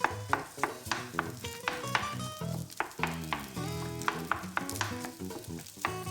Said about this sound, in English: Break it up and then mix the egg into it.